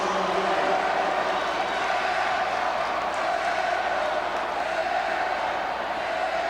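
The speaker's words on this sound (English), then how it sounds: "Airballs the free throw, and the Panther crowd letting him know about it." A high school basketball crowd in a large arena at a state tournament quarterfinal sends up a steady roar of jeering after an airballed free throw, sustained and dense throughout.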